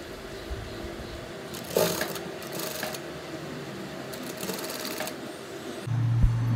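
A sewing machine stitches pleated fabric for a cloth flower, giving short close bursts of rapid mechanical chattering separated by quieter pauses, with a low hum near the end.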